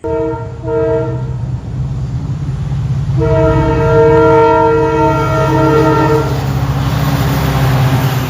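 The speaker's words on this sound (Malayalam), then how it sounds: "ഇത് തൂത്തുക്കുടിയിൽ നിന്ന് തിരുനെൽവേലിക്ക് വന്ന പാസഞ്ചറാണേ" Loud passenger train horn on the Thoothukudi to Tirunelveli line at a railway station: one short blast, then a long sustained blast lasting several seconds, over a steady low rumble of the train. No one speaks.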